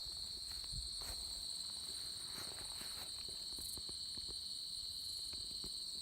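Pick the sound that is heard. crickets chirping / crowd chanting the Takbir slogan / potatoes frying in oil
crickets chirping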